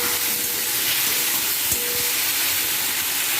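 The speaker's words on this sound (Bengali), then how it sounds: "সমস্তটাকে ভালো করে কষিয়ে নেব" Steady loud sizzling and hissing of potatoes with salt, turmeric and ginger-onion-garlic paste frying in a hot pan, with a faint scrape of stirring partway through; no talking.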